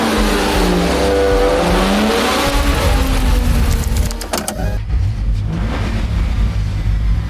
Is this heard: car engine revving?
yes